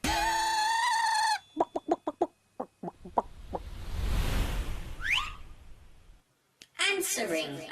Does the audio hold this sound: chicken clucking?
yes